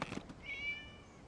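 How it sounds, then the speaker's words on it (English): A cat in the Genshin Impact video game gives a single short, faint, high meow after a brief soft rustle, with no voices. "It's a cat."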